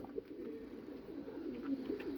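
Pet pigeons coo softly and repeatedly in a low, steady murmur, faint and close, with no talking.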